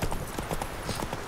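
Horse hooves clip-clopping in The Witcher 3, a quick, steady run of close, loud hoofbeats over a brief stretch, with no one speaking.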